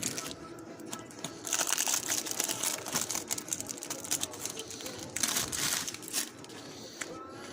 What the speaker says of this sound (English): let's keep on ripping these bad boys open